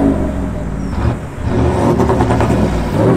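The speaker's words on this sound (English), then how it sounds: "Full custom exhaust, yeah." Toyota Land Cruiser Troopy engine with a full custom exhaust, running at a steady idle then a brief rise in revs, close and loud.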